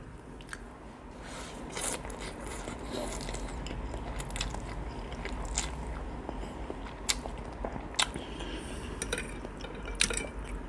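Large pieces of crispy fried chicken are bitten and chewed close to the mic at an ASMR eating session, with repeated sharp crunches over wet chewing and no talking.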